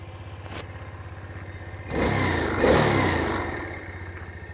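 A running Xpro Vader 125cc scooter engine holds a steady mid-pitched idle, then revs up twice in quick succession before settling back to idle, close by with no talking.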